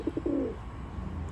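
An American racer pigeon gives a short, soft coo, a couple of quick low pulses and then a brief drawn-out note, close by and quiet with no one speaking.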